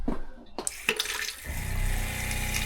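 A tap runs in a narrowboat bathroom after a few knocks and clicks, then settles into a steady, close rush of flowing water.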